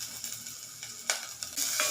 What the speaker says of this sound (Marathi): फोडणीमध्ये आता एक मिरची आणि एक छोटा कांदा फोडणीला देऊन हलवून घ्यायचा आहे